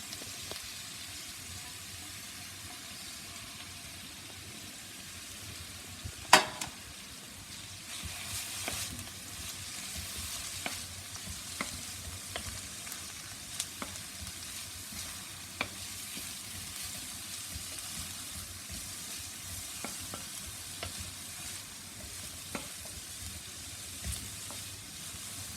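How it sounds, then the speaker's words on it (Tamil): Carrot, cabbage and capsicum sauté in a pan for vegetable fried rice, giving a steady close sizzle throughout, broken by sharp spatula scrapes and clicks as the vegetables are stirred. "ஒரு 2 மினிட்ஸ் கேரட்டை வதக்கிட்டு அதுக்கப்புறம் நம்ம வந்து முட்டைக்கோஸையும் கேப்சிகம், முட்டைக்கோஸ் சேர்த்துருவோம்"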